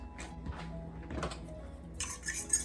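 A fork mixes gluten-free chicken ramen seasoning in a bowl: a few light metallic taps and scrapes, then a brighter run of clinking near the end.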